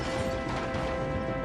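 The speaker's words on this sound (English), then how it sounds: "Hector crashed off the track." Cartoon train wagon crashing off the track into a set of buffers, a loud continuous clattering crash of metal and machinery that fills the whole moment, with no voice.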